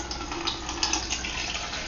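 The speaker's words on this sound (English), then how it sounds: "I'm going to pour this out and into the pitcher" Homemade apple cider vinegar is poured from a jar into a pitcher, making a continuous close splashing and trickling stream with small bursts of bubbling, with no talking.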